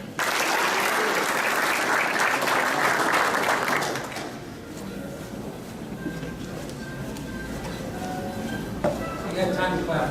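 Applause from a graduation audience at a military NCO academy rolls loudly for about four seconds, then thins to scattered claps while a voice speaks over the room.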